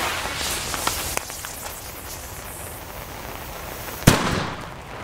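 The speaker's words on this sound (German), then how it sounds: "Sehr dumpf, aber extrem laut. Pyroart Dynamit Super Böller 2." A Pyroart Dynamit Super Böller 2 firecracker goes off at New Year's in one sharp, loud blast near the end, after a stretch of distant crackling fireworks and scattered pops.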